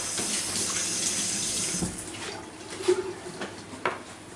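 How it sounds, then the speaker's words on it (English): A kitchen tap runs steadily while hands are washed beneath it, the water splashing close by with a few brief clinks and knocks as the flow is disturbed. "I'm going to have to wash my hands for this one."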